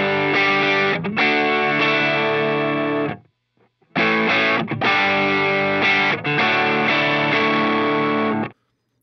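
A dry electric guitar played through a Line 6 POD Go with no reverb rings out in loud, distorted chords that stop dead with no tail, with one short silent gap between phrases.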